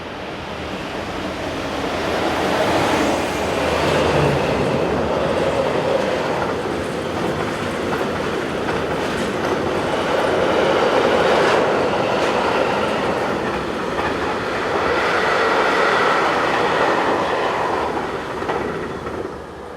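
Electric locomotive 7302 rolls through on a European line with the early Paris to Orléans service, a loud sustained rumble and clatter lasting the whole stretch.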